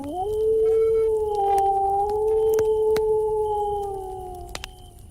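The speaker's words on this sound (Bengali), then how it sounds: "দূরের শিয়ালের ডাক" A jackal's long, steady howl rings out in a Bengali horror cartoon set on a foggy winter night, one sustained wavering tone with faint clicks and rustles behind it, fading toward the end.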